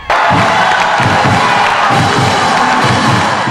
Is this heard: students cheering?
yes